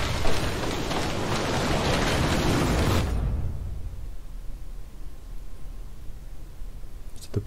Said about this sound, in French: C'est de la pluie ou c'est de la pluie de Mundus?